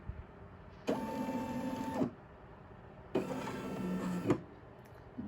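A Brother SE600 embroidery machine shifts its hoop to trace the design area, two separate whirring motor runs of about a second each with quiet pauses between them.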